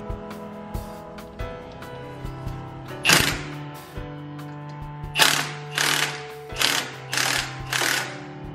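A three-jaw puller is worked on the front axle of an E70 BMW X5 during a wheel bearing change, giving a series of sharp metallic ratcheting bursts, about six in a rhythmic run, over a steady mechanical hum with no talk.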